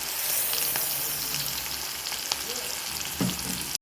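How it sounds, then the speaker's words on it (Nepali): Sliced onions frying in hot oil in a pan as they are stirred, a loud, continuous sizzle with scraping spoon strokes, close and steady with no talking. "प्याज राखेर अब म चलाउन चलाइरहेको छु"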